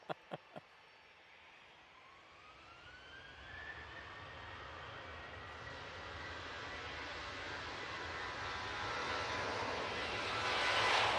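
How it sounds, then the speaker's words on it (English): ATR turboprop coming in to land at Manchester Airport, a few sharp clicks then a rising engine drone with a climbing whine that grows steadily louder as it approaches. "I have an ATR coming in"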